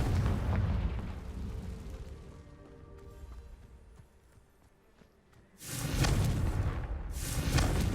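A Confringo spell explosion in the game Hogwarts Legacy: a quieter tonal game ambience gives way to a loud, sustained roaring blast that fills the last two seconds.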